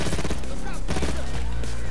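Rapid, continuous automatic fire from a Mac 11 submachine gun in the heist video game Payday 2, a loud dense rattle of shots lasting the whole moment with no pauses.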